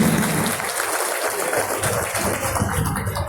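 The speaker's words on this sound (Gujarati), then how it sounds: "એક વખત જોરદાર તાળીઓથી પ્રધાનશ્રીને વધાવીશું." Steady crowd applause for a minister at a felicitation ceremony in Jamnagar, sustained throughout and fairly loud.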